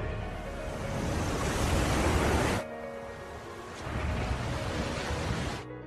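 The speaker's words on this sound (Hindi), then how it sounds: "सुनामी लहरें 800 किलोमीटर की रफ्तार से जापान की तरफ बढ़ रही हैं।" Tsunami waves surging in an animated film: a loud roaring rush of water like heavy surf, swelling, cutting off abruptly, then returning before stopping, with no voices.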